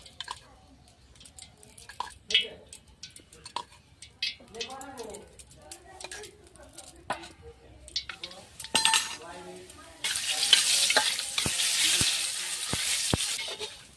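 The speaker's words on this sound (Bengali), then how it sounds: "এবার বড়িটা ভেজে নেব।" Bori lentil dumplings fry in oil in a pan while a person talks, with pan and utensil clinks at first and then a loud, steady sizzle that takes over near the end, broken by a few sharp taps.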